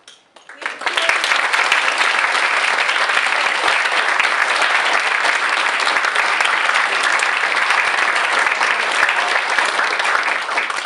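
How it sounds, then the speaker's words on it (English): Loud, sustained applause from a large audience at a Model UN environmental summit, starting abruptly and continuing evenly for several seconds. "join me to give a big hand of applause Judith, Micheal, and Cynthia"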